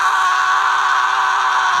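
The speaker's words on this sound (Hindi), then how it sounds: "इतनी जोर से चिल्लाता और बाल नोचता है" An animated boy lets out a loud, sustained, strained scream while pulling at his hair, one unbroken cry holding steady for about two seconds with no talking.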